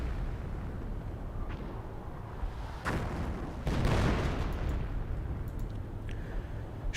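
An off-map artillery strike lands in the World War II strategy game Company of Heroes, with two heavy broadband blasts a second apart over a rumbling battlefield bed, followed by fainter debris and distant crackle.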